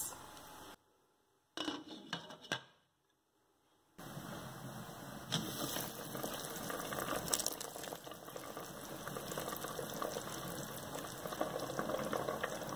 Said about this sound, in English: I am now going to cover this and leave it to boil for about 5 minutes.